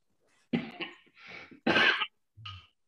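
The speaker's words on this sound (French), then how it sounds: "Pourquoi tu tousses" A man who smokes coughs several times in short harsh bursts, close up, with brief pauses between them and a final throat-clearing sound.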